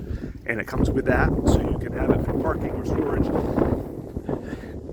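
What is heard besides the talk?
wind blowing on a windy day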